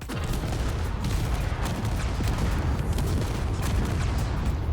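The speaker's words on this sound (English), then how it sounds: "just rotating so the turrets all get a shot" Spaceship turrets fire in Space Engineers, a dense, rapid barrage of booming shots rattling continuously over a low rumble, with no voices.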